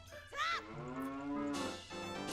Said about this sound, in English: There's a cow here.